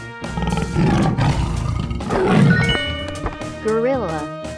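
Tiger in a 3D animal slide video game giving rough roars amid game music and sliding effects, ending with a warbling tone, loud and near.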